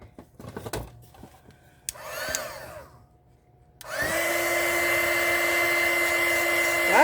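A hair dryer starts up and blows steadily at close range, drying fresh watercolor paint on paper; a few quiet brush and paper sounds come before it switches on.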